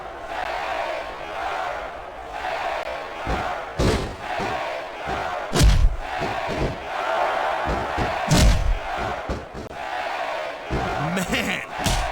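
Arena crowd in the wrestling video game Smackdown vs Raw 2006 roars in a steady wash, punctuated by heavy slams and thuds from the ring, with commentary voices talking over it.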